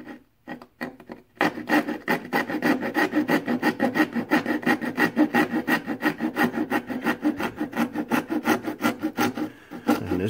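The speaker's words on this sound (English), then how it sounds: "So I'm going to use a coping saw here." A handheld coping saw cuts through a piece of wood for a static grass applicator build, starting with a few tentative strokes, then a fast, steady rhythm of close back-and-forth rasping strokes with no speech.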